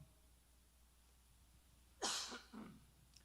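A man with a lingering two-month cough lets out a couple of short, rough coughs close by, the first the strongest, after several seconds of quiet room tone.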